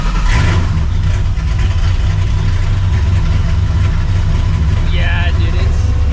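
A loud 600HP Procharged New Edge Mustang GT idles close by in the rain, a steady heavy low rumble filling the whole stretch, with people talking over it.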